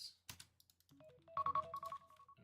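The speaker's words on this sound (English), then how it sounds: "an alarm on my phone" A phone alarm rings with a short electronic melody of bright rising and repeating tones, preceded by a couple of clicks and sounding close and fairly clear.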